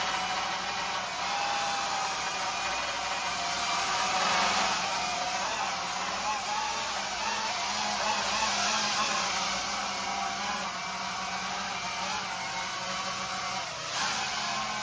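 Propellers of an S156 drone spin in a corridor, pushing strong airflow as a loud, steady whirring buzz with a high whine that holds for the whole stretch and dips briefly near the end.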